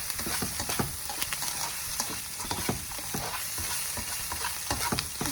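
Shrimp fried rice is stirred in a hot frying pan, with a constant close sizzle. Irregular scraping and clattering strokes of the utensil against the pan run through the whole stretch, and no one talks.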